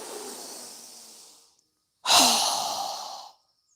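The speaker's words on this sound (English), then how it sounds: "exhale through our mouth with a fast, strong breath as we lower our arms and hands down" Two breaths of yoga practice: a softer airy exhale, a pause of silence, then a fast, strong exhale through the mouth, a loud close whoosh of breath that tapers off.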